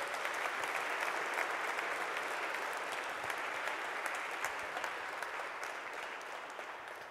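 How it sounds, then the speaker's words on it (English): Sustained audience applause for church musicians during a service, a dense steady wash of many hands clapping that fills the room for several seconds and eases off slightly toward the end, with no voices. "If we could give them a round of applause."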